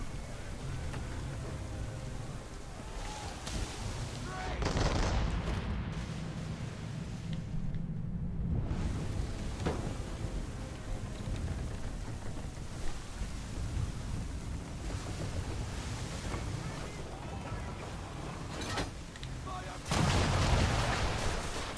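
Heavy booming cannon blasts in Assassin's Creed III roll over a dense, noisy wash of wind and water, with a couple of louder bursts standing out near and far.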